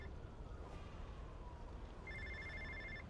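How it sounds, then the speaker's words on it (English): A faint electronic phone ring trills in the last second of the video game Infamous: First Light, repeating pulses over a low rumbling game background. "Oh, the phone's ringing."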